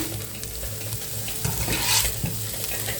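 Shredded cabbage sizzles steadily in a hot frying pan, a close, continuous crackle broken by a few scraping stirs, with no voices.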